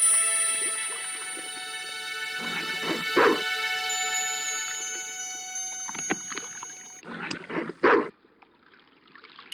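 A dog from the Broken Sword 2 adventure game whimpers and gives short barks alongside a watery dunking splash, moderately loud over a sustained tonal musical backdrop that drops out near the end.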